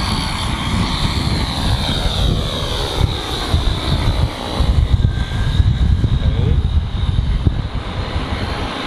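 A Foxtech D130 drone flying and climbing, a steady, loud propeller and engine drone with a slightly shifting pitch throughout, while someone speaks over it.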